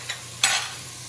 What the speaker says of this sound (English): Bacon is cooking pretty nice, but I don't want it to be fully crispy.